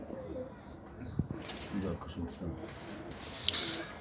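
Pigeons coo softly inside a loft coop among tumbler-type birds, low murmuring calls rising and falling over a few seconds, with faint human voices and shuffling in the background.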